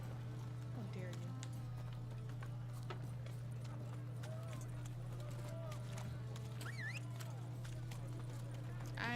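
Roach, the horse in The Witcher video game, gallops in a steady rhythm of hoofbeats over a constant low hum, with a person talking throughout.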